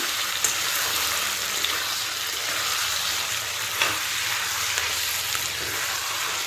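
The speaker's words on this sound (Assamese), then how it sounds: "মোৰ মাংস ভাজা হৈ গ'ল দেখিছেনে" Meat frying with onions in a pan for a Sunday home-cooked meal, giving a loud, steady sizzle throughout with a few brief scraping bursts from stirring.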